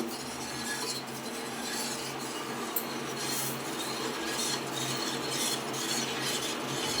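Sugar and a liquid are stirred together in a cup for custard, a continuous soft rasping swirl with faint spoon scrapes against the sides, close and without speech.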